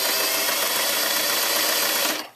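Sewing machine stitching an up-cycled neck tie: a loud, continuous, close mechanical whir that runs steadily before cutting off abruptly.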